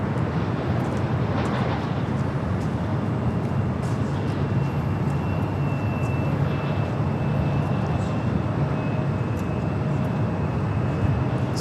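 A Norse Boeing Dreamliner taking off at LAX: a loud, continuous jet engine roar with a broad low rumble that holds steady throughout, heard from nearby with no voices over it.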